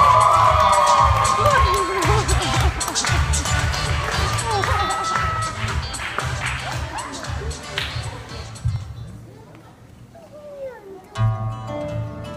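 A studio concert audience in Krasnoyarsk claps and cheers loudly with whoops over a pulsing music beat, then the clapping fades into a quieter stretch before music swells again.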